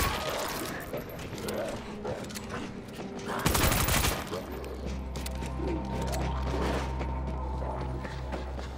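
An auto turret firing in the video game World War Z in a Jerusalem level, a burst of rapid gunfire amid chaotic combat noise, followed by a steady low mechanical hum.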